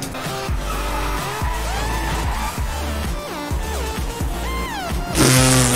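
In the Driveclub racing game, a 1500-horsepower Koenigsegg Regera drifts during a drift event, its tires squealing and skidding in long wavering tones over a continuous engine roar, with a loud burst near the end.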